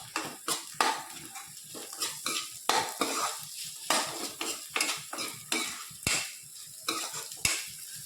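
Prawns and cashews fry dry in a pan, with repeated sharp spatula clinks and scrapes against the metal every half second or so over a light sizzle, close up.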